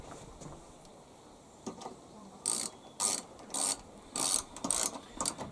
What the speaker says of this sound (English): back in with a 10mm bolt. Just get the socket.